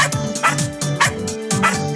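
A puppy gives a rapid run of high, yappy barks in a steady rhythm, about six or seven in two seconds, close and clear with no talk over them.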